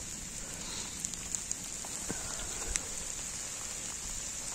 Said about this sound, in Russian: смотрите, градинки падают